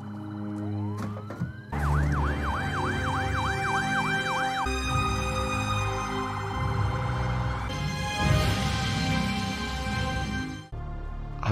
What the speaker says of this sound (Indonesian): sirene polisi pun mulai terdengar yang ngebuat trio psikopat